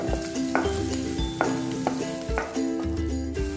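Pieces of ginger sizzle in a hot oiled pan while being stirred, a steady frying hiss broken by repeated scrapes and clinks of a spoon against the metal.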